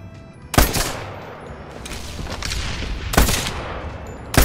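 Gunfire in the video game Medal of Honor: Airborne: a few loud, sharp shots spaced a second or more apart, with a scatter of fainter distant fire between them and no voices.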